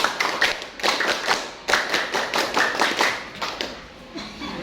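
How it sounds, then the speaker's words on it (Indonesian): A school class performs the scout clap, a patterned rhythmic clapping routine. Sharp, close hand claps come in short grouped bursts with brief pauses between them. "Tepuk pramuka."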